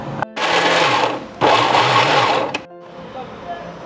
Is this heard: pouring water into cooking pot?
no